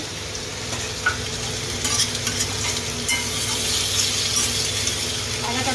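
Raw ginger sizzling and frying in a pan while being stirred, a continuous close hiss of hot oil with occasional light scrapes and clinks of the utensil against the pan.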